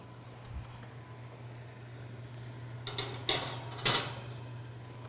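A baking pan with cinnamon protein bread batter goes into a 350-degree oven: a few faint metallic clinks and a soft clatter near the end, over a steady low kitchen hum.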